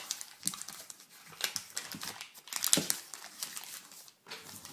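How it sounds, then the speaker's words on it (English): Paper wrapper peeled from a stick of butter, close crinkling and rustling in irregular bursts with a few sharper crackles and brief quiet gaps between them. "if you take the stick of butter and you unwrap it, and after you unwrap it, you still want to keep the paper."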